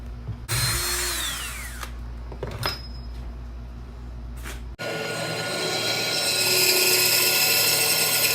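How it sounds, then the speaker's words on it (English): Power drill boring holes into the sides of a wooden flip-top tool stand, heard as a loud steady whine with brief pauses and pitch changes, then a harsher, louder sustained drilling run near the mic. "somewhere in there I also drilled these holes in the sides of the stand for the pipe to fit into"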